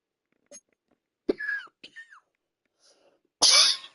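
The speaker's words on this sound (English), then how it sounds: "Excuse me, my bad. Cough." A single short, harsh cough bursts out near the mic at the end, after a few quiet breathy or throaty sounds and brief vocal noises earlier in the quiet stretch.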